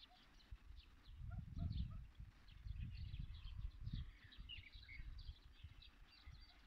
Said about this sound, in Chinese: 每天在这听一回鸟声，也挺幸福的。